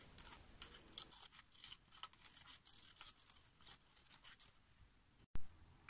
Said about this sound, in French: Découpe ensuite le cercle à l'aide de ta paire de ciseaux.